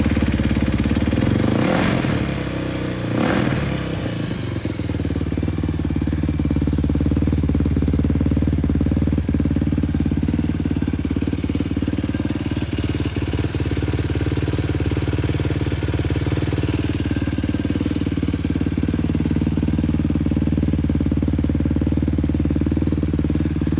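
Yamaha YFZ450 quad engine running after a coolant flush, with two sharp revs early on and then a steady, loud idle with a lumpy, clattery tone that carries on to the end.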